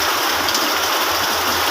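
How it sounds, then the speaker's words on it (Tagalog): Heavy rain falling in a dense, steady hiss, loud and close, with no voices over the continuous downpour. "Lakas ng ulan guys oh."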